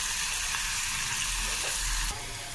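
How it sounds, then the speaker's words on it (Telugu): Sliced onions and green chillies fry in hot oil for a raw banana and tomato pulusu, making a loud, close, continuous sizzle with a dense bubbling hiss and no speech. "ఇప్పుడు ఇందులో ఉల్లిపాయలు, పచ్చిమిర్చి వేసుకున్నాం"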